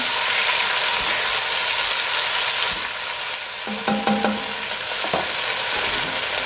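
Cherry tomatoes and capsicum sizzle and fry in a pan for a pasta sauce, a constant bright hiss close by, punctuated by a few scraping and knocking stirring strokes, with no talking.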